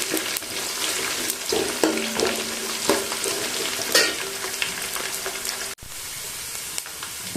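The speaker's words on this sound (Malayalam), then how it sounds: "നന്നായിട്ട് ഇളക്കി കൊടുക്കാം." Garlic and coconut pieces fry in a pan with a steady close sizzle, broken by repeated scraping stirs and clinks of a spoon against the pan, with no talking.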